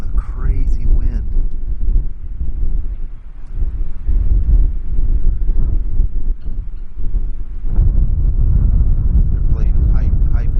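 Strong gusty wind buffets the microphone outdoors in a steady broadband roar, with a person talking intermittently over it.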